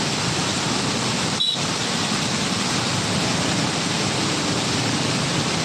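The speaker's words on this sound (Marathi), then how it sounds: "बीड शहरालगत असलेल्या बिंदुसरा नदी पात्रात लाईव्ह सध्या सुरू आहे" The Bindusara river near Beed in flood, a constant loud rushing roar of water with no pauses and no voices.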